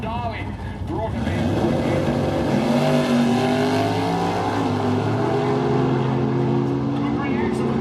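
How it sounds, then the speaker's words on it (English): Drag race cars launching at a spring nationals meet at The Bend, loud engine roar rising sharply after a second and holding a strong, close, sustained howl. "Got there, good drag race."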